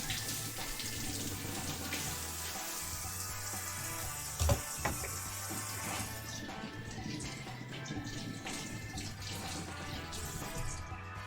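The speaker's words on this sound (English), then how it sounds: "Let's give our knives a rinse off. Get those herbs off of them." Kitchen knives rinsed under a running tap to clear off herbs, a steady close rush of water splashing in a sink with a few brief clanks of metal partway through.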